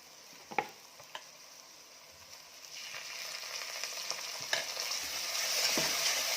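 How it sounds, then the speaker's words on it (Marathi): Roasted ground coconut paste sizzles in a pan over ginger-garlic paste for a Kolhapuri mutton dish, with a couple of sharp spoon knocks early on and a steady frying hiss that swells louder as stirring goes on. "आलं लसूण पेस्ट टाकल्यानंतर जे आपण खोबऱ्याची पेस्ट करून घेतलेली म्हणजे खोबरं वाटून घेतलेलं आहे ते घालायचं आहे"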